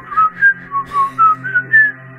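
A person whistles a short wavering tune during a horror fishing game: about seven clear, close, fairly loud notes in a steady rhythm, with no talk.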